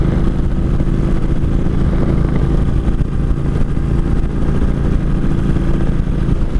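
Kawasaki Vulcan 1600 motorcycle engine, a 2003 bike with suspected clutch trouble, running steadily with a continuous loud low throbbing drone and no pauses, heard from the rider's position.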